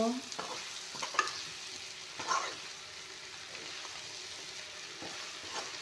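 Local chicken meat frying in a pan with cooking ingredients, a low continuous sizzle broken by a few scraping stirs and clinks, quiet and close, with no talking.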